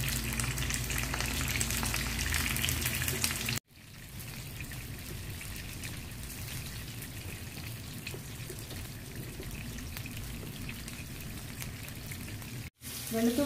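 Tomatoes, garlic and dried red chillies roasting over a high flame for tomato chutney, giving a steady crackling hiss that runs throughout, with two brief dropouts.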